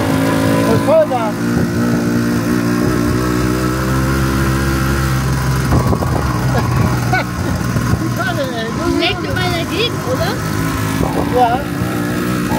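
Opel Manta GSI engine droning steadily at full throttle from inside the car, a continuous mid-pitched roar with shifting tone, with people talking over it.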